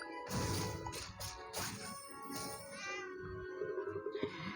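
A cartoon cat meows in the video game Cat Quest, several short mewing calls over game sound effects and music, ending in a quick run of chirpy tones.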